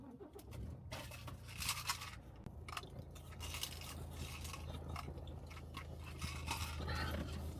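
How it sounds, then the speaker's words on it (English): Gum being chomped close to the mic outdoors in the dark, a run of soft wet crunching chews repeating steadily over a low constant background hum, with no talking. "you can hear me chomping on the chewing gum"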